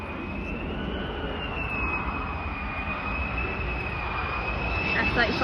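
F-35 Lightning jet at RAF Lakenheath, a steady broad roar of jet engine noise holding level and swelling slightly toward the end, with a thin whining tone running above it.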